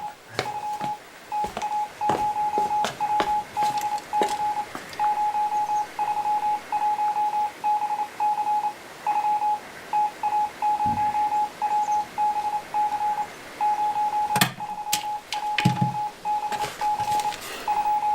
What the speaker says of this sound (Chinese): 把咱们的谈话组成一个电报稿，发给博古和叶剑英同志。